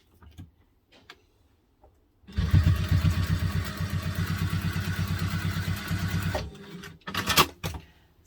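A sewing machine stitches a seam on a Zara double zip mini wallet in one steady, fast, loud run of about four seconds, with a few soft clicks and handling taps before and after.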